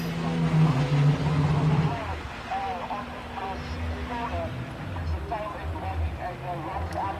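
A hill-climb race car on slick tires at the Simola Hillclimb 2023 gives a droning engine note that is strongest at first, then fades under a voice talking.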